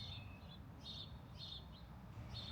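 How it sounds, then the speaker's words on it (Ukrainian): Small birds chirp outdoors at a truck unloading spot, a few short high tweets repeating over a low rumble, faint and distant. "Пташечки цвірінькають."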